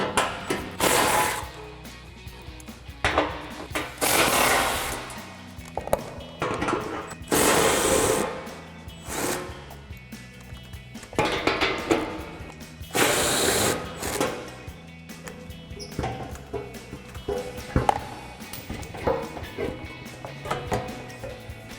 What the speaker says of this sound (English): remove 4 12mm bolts going all the way around